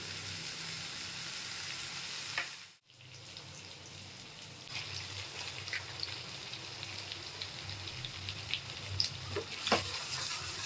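Onions sizzle and fry with turmeric in a pan for prawn bhuna masala, a steady close crackling hiss, briefly cut off by a short stir or dropout before the frying returns and grows more spattery.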